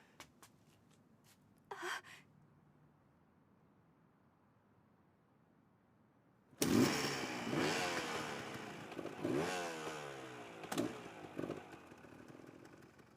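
A motorcycle ridden by a high-school student without a licence starts up after a short quiet stretch, its engine roaring loud and close with rattling, revving sweeps that continue steadily to the end.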